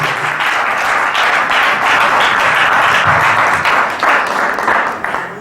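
Congregation at a church seminar applauding and cheering to acclaim the Lord, a dense, loud wash of clapping and voices that holds steady throughout and fades slightly at the end.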